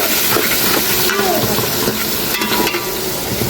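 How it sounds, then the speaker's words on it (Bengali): Onions are dropped into hot oil in a pot after potatoes have been fried in it. A loud, dense, steady sizzle and hiss fills the scene up close, with stirring and a voice in the background. "এখন আমি পেঁয়াজ দিয়ে দেবো।"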